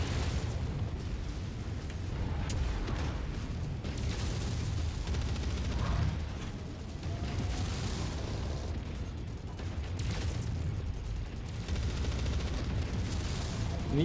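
Heavy mech weapons firing in MechWarrior 5: Mercenaries, a continuous rumbling roar of booms and blasts with mechanical clanks running steadily for the whole stretch, loud and dense.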